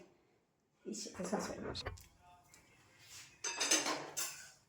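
Lentils being washed in water in a metal pot: close clattering and clinking of the pot and utensils in two busy bursts, with a quieter stretch between.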